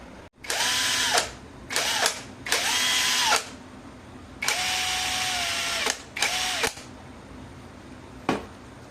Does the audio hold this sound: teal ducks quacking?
no